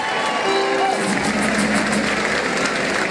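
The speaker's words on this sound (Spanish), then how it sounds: "Quiero que todos ustedes, amigos, me den un aplauso fuerte" An audience applauds and cheers at a Tejano music festival at a western club, a steady wash of clapping and crowd noise with some voices and tones underneath throughout.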